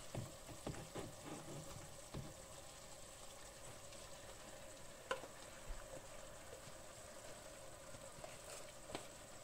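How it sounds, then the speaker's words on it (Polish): Vegetables frying in a pan for Greek-style fish, giving a continuous soft sizzle with occasional light clicks and stirring taps, quiet and steady throughout. "I znowu będziemy smażyć, aż zmiękną."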